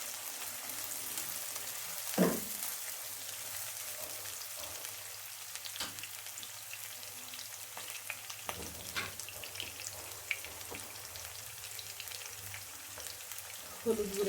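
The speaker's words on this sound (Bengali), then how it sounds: "ভাজা ভাজা করে" Small mola fish frying in a pan for a Bengali chorchori, a steady soft sizzle running throughout with a few louder crackles and spatula stirs, fairly quiet and without talk.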